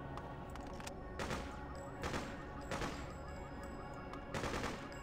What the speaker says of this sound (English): maybe I have better aim with the machine gun